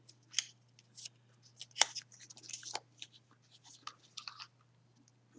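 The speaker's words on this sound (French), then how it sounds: "Et je coupe de l'autre côté ce qui reste à découper." Scissors snip through paper while trimming a mini matchbox pouch for a craft embellishment, with several short crisp cuts spread across the stretch, close and fairly quiet.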